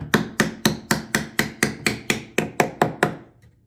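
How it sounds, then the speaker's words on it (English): A hammer drives small finish nails into wood while building an owl house, about a dozen sharp, evenly spaced strikes, close and loud with no talk. "And then we'll just nail it with finish nails right down there in the wood"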